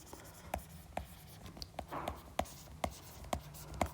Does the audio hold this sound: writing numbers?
yes